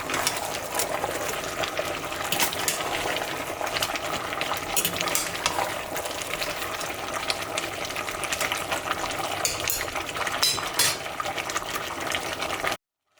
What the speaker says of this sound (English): Time to stir it again.